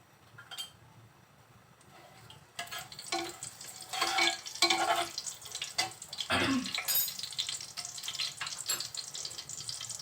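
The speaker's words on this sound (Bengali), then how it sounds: "তেলের মধ্যে দিচ্ছি গোটা মশলা, তেজপাতা আর গরম মশলা।" Whole spices, bay leaves and garam masala dropped into hot oil for a beef curry, a quiet start giving way to a busy crackling sizzle with clatters of stirring.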